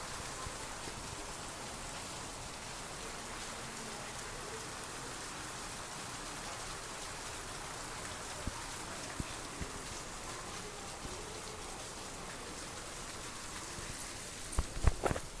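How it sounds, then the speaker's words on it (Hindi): Heavy rain pours steadily and densely at close range, a constant hiss of drops on surfaces that barely varies, with a few faint knocks near the end and no talking. "एकदम से करेज बारिश होती है, पानी गिरत है थोड़ा नहीं"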